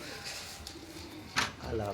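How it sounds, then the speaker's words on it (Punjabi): Pigeons coo softly nearby, low throaty calls over a faint outdoor hum, with a brief voice-like burst in the middle. "ਇਹ ਬਿੱਲੇ ਕਬੂਤਰ ਦਾ ਬੱਚਾ"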